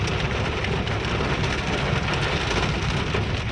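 Heavy rain pours down steadily in a dense, even hiss with no breaks, loud and close, and no voices are heard.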